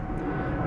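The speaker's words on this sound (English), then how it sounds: "Excuse the noise with the airplanes." A steady, broadband roar of an airplane passing overhead outdoors during a kayak walkthrough, a brief continuous engine wash with no talking.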